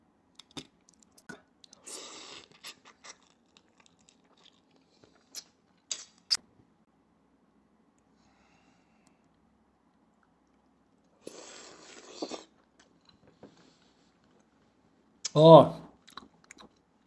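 Soft, close chewing and wet mouth noises while eating hairy crab roe, sparse bites separated by quiet gaps, ending with a brief louder voice.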